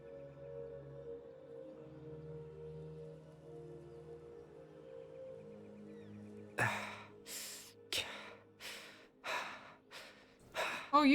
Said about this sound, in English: Oh, you are panting a lot.